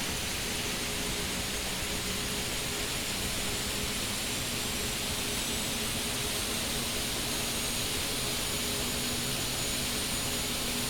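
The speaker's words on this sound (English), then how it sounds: "Just wait for the engine RPM to increase here." A Mil helicopter's turbine engine spooling up during start-up in the DCS flight simulator, a loud, steady broadband roar and whine that fills the whole clip without breaks or talking.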